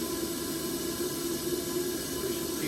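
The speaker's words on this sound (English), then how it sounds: "Looks like we just got some steam on it, as indicated by our valve here." Steady broadband hiss of steam escaping on a 7.5-inch gauge steam locomotive during a test fire-up, continuous and fairly close with no talk over it.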